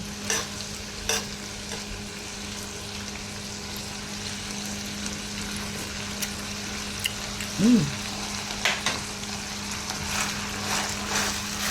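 Green beans sautéing in rendered pork fat in a pan, a low steady sizzle with a few light clicks and scrapes from stirring, close and even throughout, with no talking.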